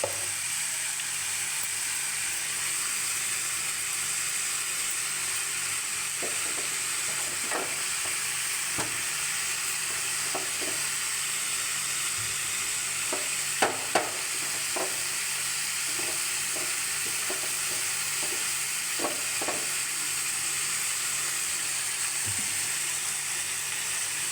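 Ghee sizzling in a pan as mocha (banana flower) cooks with spices, a steady loud hiss with scattered crackles and occasional stirring taps, no voices.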